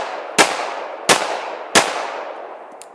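Three sharp gunshots ring out in quick succession, roughly two-thirds of a second apart, loud and close, each followed by a short echoing decay.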